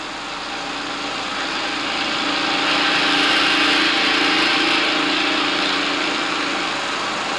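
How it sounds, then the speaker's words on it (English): Two lawn mower engines, one 2-cycle and one 4-cycle, run steadily nearby with a loud, constant buzzing drone that swells slightly midway and holds throughout with no talk. "here is a 2-cycle mower and a 4-cycle mower"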